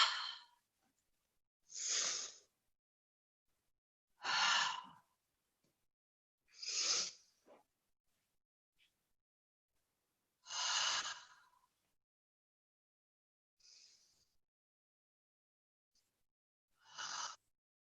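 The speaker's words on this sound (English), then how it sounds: "Begin to breathe deeply in through the nose, out through the mouth." Slow, deep breathing during a yoga class, in through the nose and out through the mouth, with soft airy breaths repeating every two to three seconds in a quiet room.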